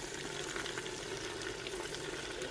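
Water splashing into a pan of mixed vegetables (carrots among them) in a village-style Indian kitchen, a brief steady hiss and bubbling sizzle with no talk.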